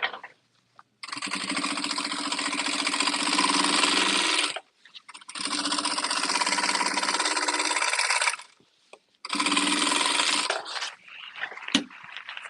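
Sewing machine running hard through top stitching in a production sewing setup, three long loud bursts of fast needle chatter separated by brief pauses, ending with a few small clicks and handling sounds.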